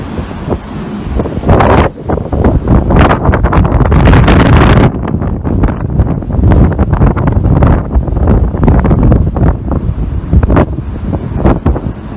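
Strong wind roars and buffets loudly and continuously on a cruise ship deck off Key West, with heavy gusts rumbling across the microphone and no voices.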